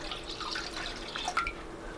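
Water is poured into sweet and sour sauce ingredients for a slow cooker freezer meal, giving a faint, brief trickling and dripping splash with no talk.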